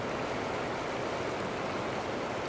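A flooded river near Christ Church on Hillsboro Road in Franklin, Tennessee gives off a constant broadband roar of rushing water. It is steady and moderately distant, and no voices are heard.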